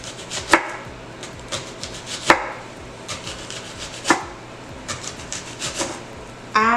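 A knife slices onions on a cutting board for chicken tinga, with a series of crisp, close chops at an uneven, unhurried pace, some hits sharper and louder than others.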